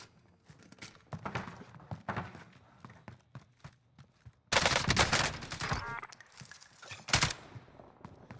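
Rapid automatic fire from an AUG rifle in Call of Duty Warzone on Rebirth Island, long dense bursts in several separate stretches, loudest near the end, with game effects around it.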